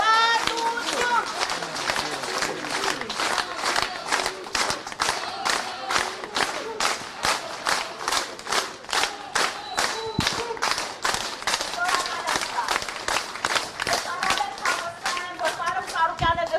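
A large rally crowd claps in a steady, rhythmic unison beat, loud and sustained, with voices chanting and shouting over the clapping.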